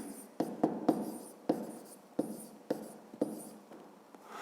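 A pen scratches across paper in short strokes, with sharp taps where it lands between words and figures, steady and close, no voice heard.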